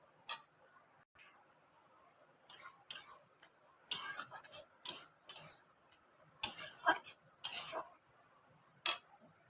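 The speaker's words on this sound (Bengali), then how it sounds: "এরকম নেড়ে নেড়ে কিন্তু লাল লাল করে একটু ভেজে নিতে হবে" Grated coconut is stirred and fried in a pan, giving quiet, irregular taps and scrapes of a spoon against the pan that come in short clusters with brief pauses between them.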